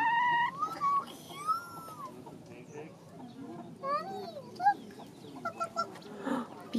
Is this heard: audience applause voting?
no